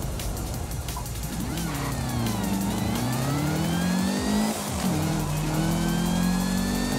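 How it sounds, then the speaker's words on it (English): Supercharged car in Forza Horizon 5 revving and accelerating, its rising supercharger whine sweeping up over a loud, steady engine roar that climbs through the gears. "Listen to that supercharger whine."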